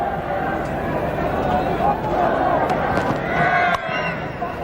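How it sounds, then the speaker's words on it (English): A noisy cricket crowd roars and chatters steadily at the Sydney Cricket Ground during a 1992 World Cup one-day match between Pakistan and India, with commentary heard over it. "Noisy crowd."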